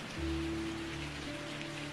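Steady rain falls as a soft, even hiss of drops, with low sustained tones humming gently beneath it throughout.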